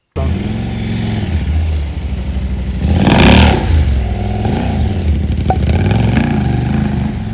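A KTM 790 Adventure S motorcycle fitted with a Rottweiler intake runs steadily close by, its deep engine note rising in a strong rev near the middle before settling back into a loud, throaty drone.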